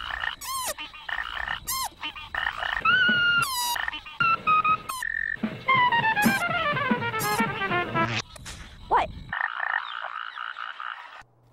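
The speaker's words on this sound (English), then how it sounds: "A frog does the same thing when it blows air out of its mouth" A frog croaking in a rapid series of warbling, chirping calls, some rising and falling in pitch, fairly close and loud.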